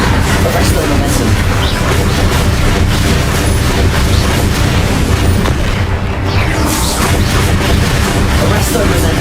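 Continuous loud booming blasts from spell combat in the Hogwarts Legacy video game, dense overlapping explosions and bursts with no pause, a heavy rumble throughout.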